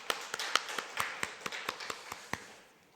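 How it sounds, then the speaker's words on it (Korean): Sparse, slightly irregular claps from a small church congregation during a year-end worship service, about a dozen sharp hits over three seconds, thin and somewhat distant, fading toward the end. "우리 감사의 박수를 하나님께"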